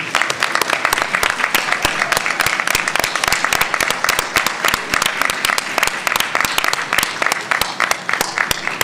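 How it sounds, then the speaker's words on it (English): A large audience applauds graduates' supporters at a university doctoral hooding ceremony, dense steady clapping that fills the room without a break. "please give them the round of applause that they deserve"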